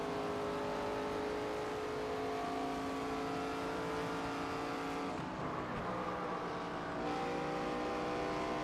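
Race car engines in the NASCAR 25 video game drone steadily at high revs, holding a constant pitch with a brief dip and shift partway through, like cars passing or changing speed. No one speaks.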